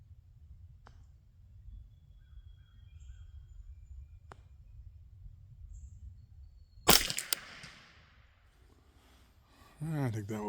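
A single sharp crack from a CZ 512 .22lr rifle at a benchrest target, standing out after quiet low background noise, with a voice speaking briefly afterward.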